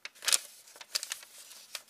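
A square sheet of paper is folded up close for making a snowflake, giving several sharp crinkling rustles followed by quieter scraping creases, fairly faint and with no voices.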